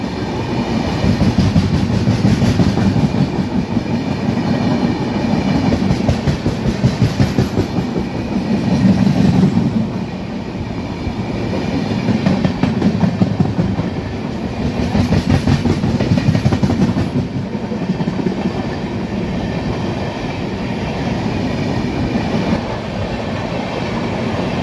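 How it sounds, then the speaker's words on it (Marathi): The Mumbai–Hingoli Jan Shatabdi Express passes at speed during a crossing with another train, a loud, close, steady roar of wheels and rhythmic clickety-clack that holds for the whole stretch with small surges, no voices. "आणि आता समोरून येत आहे मुंबई हिंगोली जनशताब्दी एक्सप्रेस"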